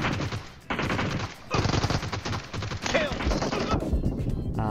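Rapid automatic gunfire in the mobile battle-royale game PUBG Mobile: loud, continuous bursts of shots with brief gaps, then a faint voice near the end.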